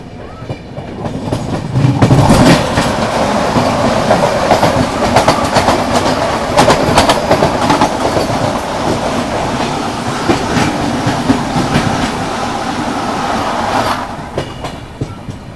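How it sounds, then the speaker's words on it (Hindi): A Vande Bharat Express passes on the adjacent track, its approach building to a loud, sustained roar with rhythmic wheel clatter over rail joints, heard close from aboard another train before fading. "वंदे भारत एक्सप्रेस की क्रॉसिंग हमने आपको दिखा दी"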